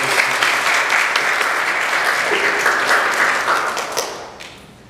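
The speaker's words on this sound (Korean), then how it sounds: "우리 박수로 우리 자녀들을" A church congregation applauding together during a Sunday service, a dense, loud wash of many hands clapping that holds steady and then fades out near the end.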